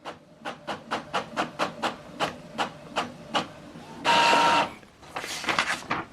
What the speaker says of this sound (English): So now it's printing.